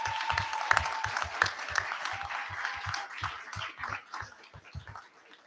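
Applause from a group at a school board meeting, loud at first and gradually fading out over several seconds, with a few individual claps standing out.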